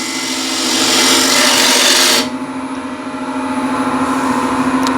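A wood lathe roughing out a turned container, the gouge making a loud, steady broadband shaving roar over the motor hum for about two seconds, then easing off to a quieter continuous whir as the cut lightens.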